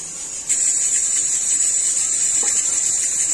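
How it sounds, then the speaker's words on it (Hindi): Rice being washed in warm water in a home kitchen, a continuous bright watery rush with faint swishing, steady and close throughout. "मैं इसे 3-4 पानी से अच्छे से वॉश कर लेती हूँ।"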